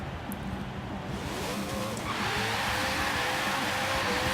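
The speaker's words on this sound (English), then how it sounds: "Massive wheel spin." A supercharged car spinning its wheels in Forza Horizon 3, a dense continuous roar of engine and tire squeal that builds and holds loud throughout, with a rising engine note.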